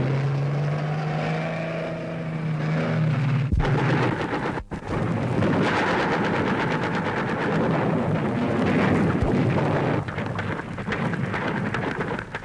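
Artillery shelling during the 1965 war in Rajasthan, rendered as a continuous heavy roar with rumbling booms and a sharp blast, dense and loud throughout with no voices.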